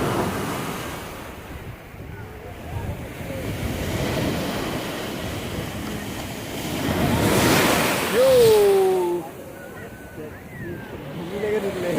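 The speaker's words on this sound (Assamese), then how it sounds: "সাগৰ পালেহি ন" Sea waves break and wash onto the beach at Mahabalipuram, a loud rolling surge swelling and fading under gusts of wind buffeting the microphone, with people talking over it.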